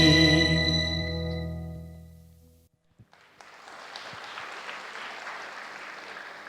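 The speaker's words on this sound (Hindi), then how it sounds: "ये तालियों की गड़गड़ाहट और आँखों की चमक बता रही है" Audience applause at a Diwali celebration, a steady crowd of clapping rising after a held musical chord fades out, continuing evenly to the end.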